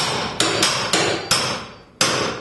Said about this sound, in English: I'll hammer the bar into the board.